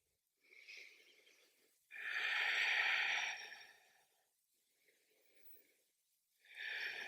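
Slow, deep breaths during a beginner yoga flow: a long, airy inhale or exhale swelling and fading, with quieter breaths around it, close and soft, without talking.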